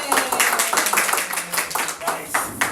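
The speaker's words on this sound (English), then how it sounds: "Can we give another round of applause?" A crowd at a high school student presentation claps loudly and steadily in dense, overlapping applause, close and continuous for the whole stretch.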